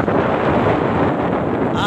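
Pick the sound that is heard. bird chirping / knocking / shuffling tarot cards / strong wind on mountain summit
strong wind on mountain summit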